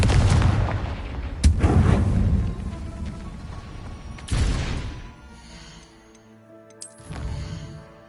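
Confringo fire spell blasts in Hogwarts Legacy, sharp booming explosions at about 1.5 and 4.3 seconds, each followed by crackling rumble, then a fainter burst near 7 seconds.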